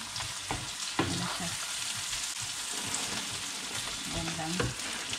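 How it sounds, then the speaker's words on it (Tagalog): Food sautés in a pan with a steady hissing sizzle and occasional spatula scrapes and knocks, heard up close under faint background murmur. "so igisa ko siya"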